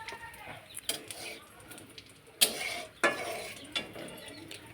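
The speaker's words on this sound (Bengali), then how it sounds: "এবারে আমি দিয়ে দেবো তেজপাতা, শুকনো লঙ্কা আর জিরে।" Bay leaf, dried chilli and cumin hit hot oil, giving a sizzling hiss with a few sharp spits and crackles, fairly close and moderately loud, with faint kitchen clatter.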